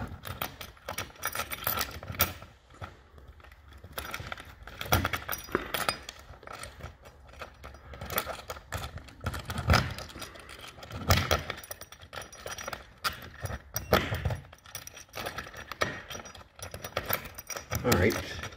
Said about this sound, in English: Toggle bolts going in.